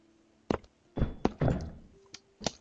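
Door opening in the SCP Containment Breach video game, a series of heavy knocks and thunks with a mechanical hum, several separate impacts spread over a couple of seconds with no talk.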